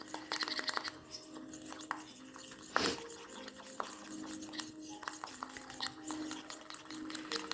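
Quiet stirring and scraping of a cosmetic powder mixture in a bowl, with soft irregular utensil clicks and one sharper knock partway through.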